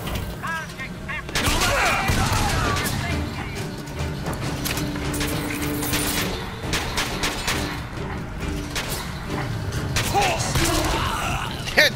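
Gunfire from a gold gun in BioShock: The Collection. Repeated sharp mechanical shots and clatter go on over a busy game soundscape for several seconds, mixed with other in-game noise.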